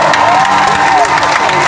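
A short burst of a crowd with children cheering and clapping at a dance contest final, loud and dense, with shouts rising above steady applause.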